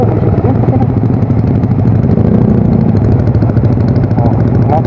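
A motorcycle with a quiet, muffled exhaust runs steadily for several seconds, its engine a loud, continuous rumbling drone heard close up while riding, with no pause in the sound.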